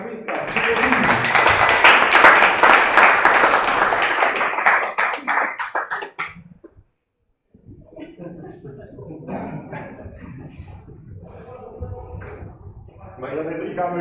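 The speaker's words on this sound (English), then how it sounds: "give us a round of applause for the meetup" Applause at a VR meetup in Tokyo, with dense clapping that builds and then fades. After a short pause, people talk and a few scattered claps are heard.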